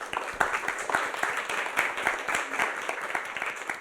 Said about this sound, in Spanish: un aplauso también para ustedes